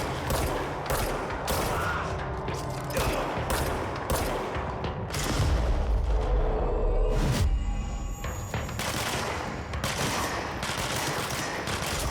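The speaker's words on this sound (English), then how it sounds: "Watch out for the friendly fire, guys." Rapid volleys of gunfire from allied shooters in the video game Control, with repeated sharp cracks and short automatic bursts, loud and close, spread over several seconds amid heavy action noise and a lower boom partway through.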